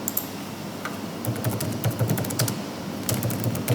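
Quick clicking keystrokes on a computer keyboard, irregular bursts of taps close to the mic over a low background hum, with no one speaking.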